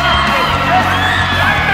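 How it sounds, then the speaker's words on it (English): A college basketball crowd erupts in loud, sustained cheering and whooping right after a spin move and score, a dense wall of voices from start to finish. "The crowd erupts."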